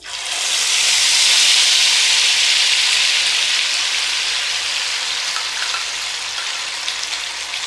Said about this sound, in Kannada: ಇದನ್ನು ಚೆನ್ನಾಗಿ ಫ್ರೈ ಮಾಡ್ಕೊಳ್ಳೋಣ ಎಣ್ಣೆ ಒಳಗೆ